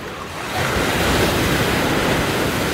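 Sea waves of the incoming high tide at Mandarmani beach roar loud and close in a continuous broadband wash, swelling up after the first half second, with some wind buffeting the microphone.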